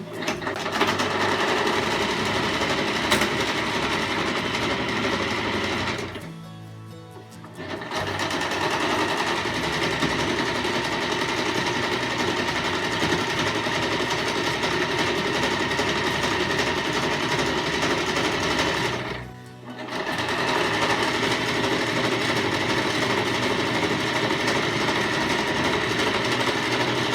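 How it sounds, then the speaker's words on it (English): A sewing machine runs fast and steady in long stitching bursts, pausing briefly twice before whirring on again, close and loud. "that's all the sewing machine work there is"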